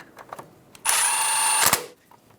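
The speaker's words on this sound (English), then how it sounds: "Snug the bolt down." A power tool whirs for just under a second as a brake line bracket bolt is snugged down on a 2014-2018 Chevrolet Silverado, a loud burst set between quiet clicks.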